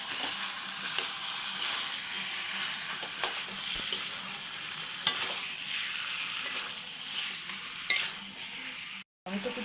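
Mutton with sour yogurt being stirred in a pan for a Bengali-style curry, a steady close sizzle broken by spatula scrapes and clinks every second or two, with a brief cut just before the end.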